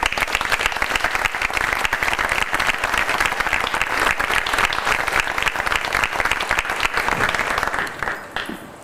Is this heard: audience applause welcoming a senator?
yes